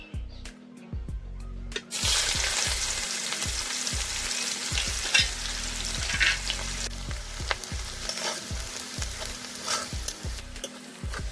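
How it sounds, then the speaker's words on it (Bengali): Onions fry in plenty of oil for a koi fish curry, a constant close sizzle broken by regular low thumps of stirring. "পেঁয়াজ বাদামি করে ভাজা হয়েছে।"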